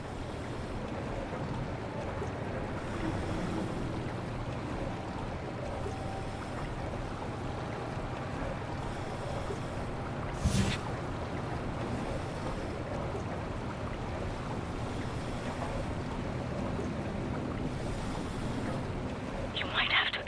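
A tunnel glider in the video game Wolfenstein: The New Order moves through sewer water, a steady, even watery rush and engine wash with one brief sharp hit partway through.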